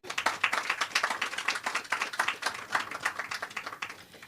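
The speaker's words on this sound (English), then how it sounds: "can we have another round of applause for him?" Audience applause at the Fort King George lighthouse recommissioning ceremony: steady, dense clapping from a crowd that holds for about four seconds and then begins to thin out, with no voices over it.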